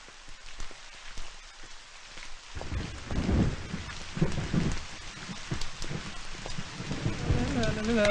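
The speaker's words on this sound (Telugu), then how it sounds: "ఇలా వర్షంలో నీతో నడుస్తుంటే నాకు చాలా హ్యాపీగా ఉంది." Rain falling in a film scene, starting as a soft patter and swelling after a few seconds into a fuller steady pour with low rumbles, no talking.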